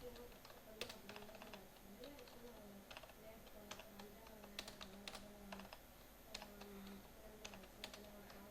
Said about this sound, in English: So here I am going to type some text.